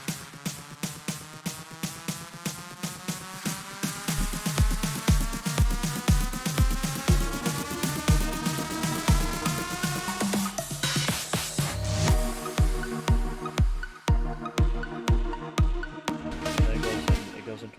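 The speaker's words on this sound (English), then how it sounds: "And our uplifters" A rising uplifter riser sweeps upward through a dance-track build-up, layered over pounding kick drums and dense synth chords that grow steadily brighter and busier.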